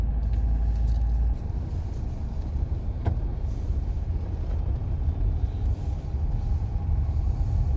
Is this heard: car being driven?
yes